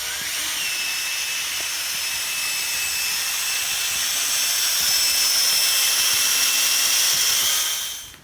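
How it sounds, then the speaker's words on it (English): A steady high-pitched whine of a power drill mixing epoxy floor coating, running continuously, close by, winding down at the end, with no talking. "I'm going to mix this with the drill."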